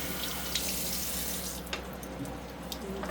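Light lapping on a Naniwa Pocket Pro sharpening stone with water, a steady close wet hiss and rasp with a few small clicks and splashes, heard alone.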